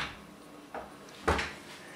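A kitchen drawer or cupboard in a rental apartment opens with a soft knock, then a louder thud and brief rattling slide, close by in a quiet room.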